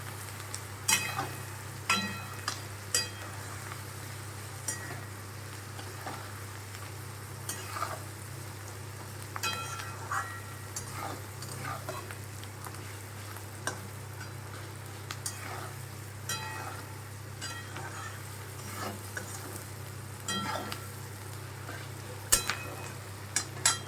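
Onion with spices sizzles softly in a pan for a pointed gourd mash, with repeated scraping stirs and clicks of the spoon recurring throughout, fairly quiet and with no voices.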